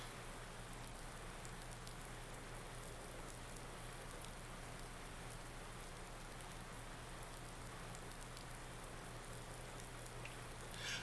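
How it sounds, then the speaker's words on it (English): Steady rain falls across a farm field in Farming Simulator 19 while barley is being planted, a continuous even hiss of drops with a low engine hum beneath, constant throughout with no voices. "So, planting barley in the rain."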